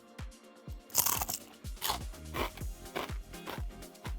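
Repeated crisp crunches of a baked potato left at room temperature being bitten and chewed, close and loud, a rapid series of sharp crackling bites with no talking.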